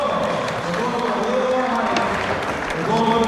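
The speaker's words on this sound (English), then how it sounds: "Give a big applause." Crowd at a metal-bending strongman event claps and cheers in a continuous noisy roar, with voices shouting encouragement over the applause throughout.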